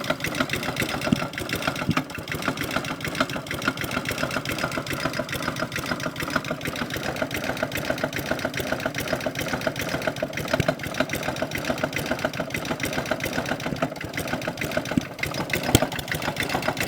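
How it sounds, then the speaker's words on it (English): A small Flymo hover mower engine chugs fast and unevenly, with rapid irregular popping, sputtering and backfiring throughout, no talking. "I can hear popping."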